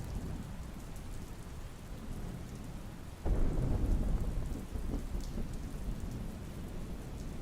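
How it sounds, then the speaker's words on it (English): Thunder rolls through a steady spring rain, a deep rumble that swells suddenly midway and lingers under the constant patter of raindrops. "only to be pulled back to the present by thunder rumbling"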